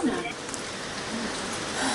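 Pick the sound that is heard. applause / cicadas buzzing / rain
rain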